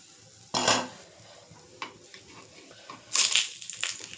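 Jaggery-and-wheat-flour sweets being flipped in a frying pan: sharp metal scrapes and clatters of a utensil against the pan, one early and a cluster near the end, over a faint low sizzle.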